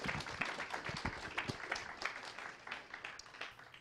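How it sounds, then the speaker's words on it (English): Audience applause at a lecture on large-scale analysis of books, a steady wash of many hands clapping at moderate distance for nearly four seconds, with no talking over it. "Please give me your attention and your applause."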